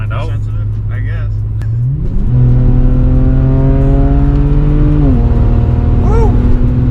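A tuned, modified 430 hp BMW 335i twin turbo with rear-wheel drive accelerates hard, its loud engine note climbing steadily, dropping at a gear change, then rising again, heard from inside the car.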